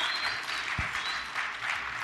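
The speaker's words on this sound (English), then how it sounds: "Give a round of applause for yourselves." An audience at an industry and university panel on semiconductor human resources claps in a dense, even patter of applause for about two seconds.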